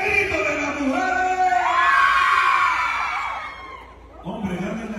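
A crowd of women dancers at a patron saint festival in Jicayán de Tovar let out a long, rising group shout. It is loud and near, then fades, and a voice follows.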